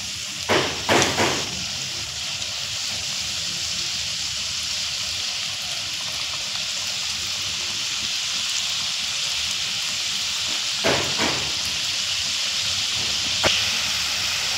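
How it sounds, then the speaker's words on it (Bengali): Food frying gently in oil over low heat, a steady soft hiss that runs throughout, broken by a few brief louder crackles near the start and again later, with no voices. "দেখুন আমি তেলে দিয়ে দিচ্ছি"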